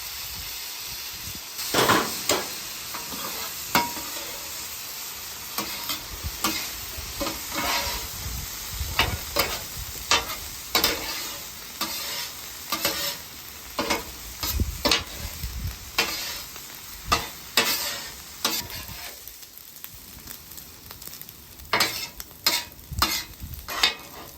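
Food sizzles in butter and avocado oil with a constant hiss, while a utensil stirs and scrapes the pan in frequent irregular knocks, close and fairly loud.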